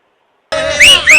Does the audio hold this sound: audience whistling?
yes